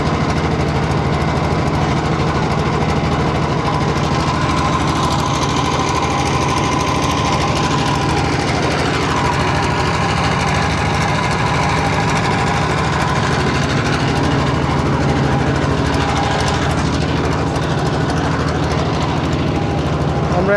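A motor boat engine drones steadily and loudly while the boat crosses the wide Padma river near Rajshahi. The continuous mechanical hum and chug carries on throughout with wind and water noise.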